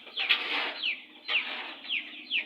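Chickens cluck and squawk on a poultry farm, several birds calling in short, overlapping bursts that repeat every second or so, fairly close and clear with no talking.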